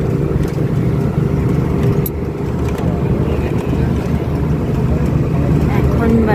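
Steady engine drone and road rumble inside a moving bus at dawn, loud and continuous with low hum and wind-like hiss throughout.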